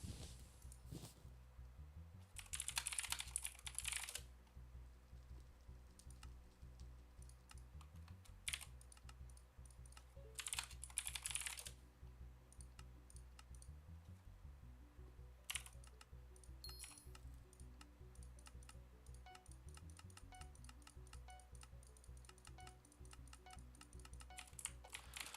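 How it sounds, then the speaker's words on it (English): Steady computer keyboard typing: rapid clicky keystrokes continue throughout, close and moderately loud, with occasional louder bursts of noise and no talking. "I like your keyboard."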